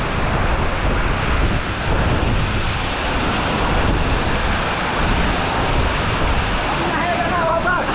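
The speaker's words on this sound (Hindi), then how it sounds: "उतना ऊपर से गिर रहा है पानी" Kynrem Falls in Meghalaya pours down from a great height, producing a loud, unbroken roar of rushing water mixed with wind buffeting against the microphone throughout.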